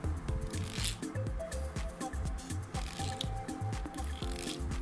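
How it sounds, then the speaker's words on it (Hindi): Soft scratchy rubbing and squishing sounds of thread rubbing against a plastic bottle repeat in short bursts, close up, with faint clicks and rustles throughout. "इसके साथ रगड़ खा रहा है धागा"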